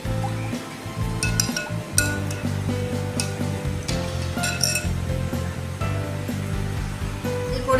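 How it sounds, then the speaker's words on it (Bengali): A spoon stirs a spiced drink of pepper, cardamom and ginger juice in a glass, giving repeated close clinks and swirling liquid sounds in an uneven rhythm. "এটা আমি ভালো করে ঘেটে নেব।"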